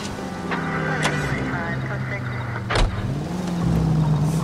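A car driven in the L.A. Noire video game hums steadily with a low engine drone that shifts pitch as it moves, mid-level and continuous, with people talking over it.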